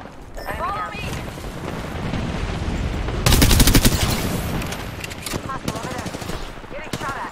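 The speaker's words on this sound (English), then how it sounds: "Getting shot at." Bursts of automatic gunfire in the video game Apex Legends, a louder close volley in the middle among more distant shots, with in-game voice callouts around it.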